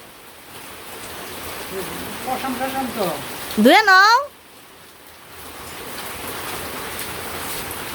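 Soft, steady rain hisses throughout in a village, with someone speaking briefly in the middle.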